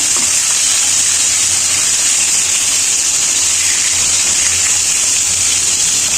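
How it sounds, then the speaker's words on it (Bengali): Rohu fish head pieces fry in hot oil with a steady, close sizzle and crackle that holds evenly throughout, with no talk over it. "ভেজে নিচ্ছি আর কি লাল লাল করে ভেজে হয়ে যায়"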